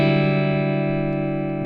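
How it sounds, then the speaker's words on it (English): An electric guitar played through a Fractal amp with the booster on gives a sustained distorted chord that rings steadily and slowly fades over under two seconds. "in this case I enable the booster of the amp."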